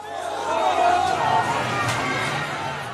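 A surging crowd in Gaza during a hostage handover to the Red Cross by armed militants, a dense continuous roar of many voices and shouts heard at a distance.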